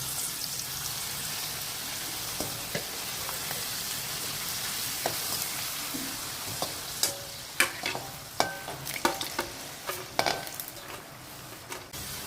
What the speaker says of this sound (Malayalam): ചൂടായ എണ്ണയിലോട്ട് ഞാൻ പപ്പടം കുറച്ചെടുത്തത് വേണേ, കുറച്ചിട്ടിട്ട് വറുത്ത് കോരിയെടുക്കണം നമുക്ക്.